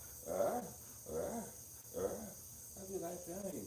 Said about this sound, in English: Goddamn dog's barking.